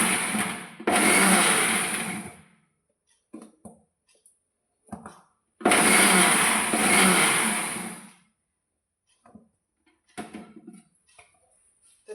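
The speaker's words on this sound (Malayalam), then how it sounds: "മിക്സി ഓണാക്കിയിട്ട്" A kitchen mixer grinder whirs loudly in two bursts of about two seconds each, with short clattering pulses and knocks between and after them, recorded close by.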